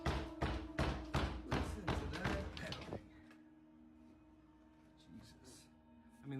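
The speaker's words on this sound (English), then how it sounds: "Listen to that pounding." Loud, heavy pounding from nearby in an apartment, about eight rhythmic thuds in the first three seconds, then quieter background with a few faint knocks.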